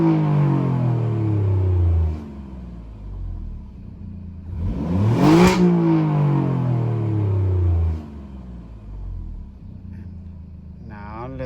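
An Alfa Romeo Giulia Quadrifoglio exhaust in dynamic mode rumbles loudly nearby, falls and builds back, then swells into a passing roar before steady engine drone returns and drops off.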